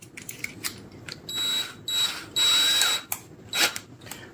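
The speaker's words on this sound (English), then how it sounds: "get a drill bit that's big enough to go through that hole" An electric drill with a bit runs in short whining bursts with brief pauses and a longer run near the middle, close and fairly loud, with clicks and handling noise between the runs.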